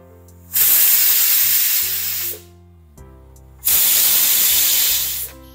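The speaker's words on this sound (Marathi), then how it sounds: "व्यवस्थित 2-3 शिट्ट्या करून घेऊ कुकरच्या" A kitchen pressure cooker with red pumpkin inside vents steam in two loud, sustained hissing bursts, each lasting nearly two seconds, separated by a short quiet pause.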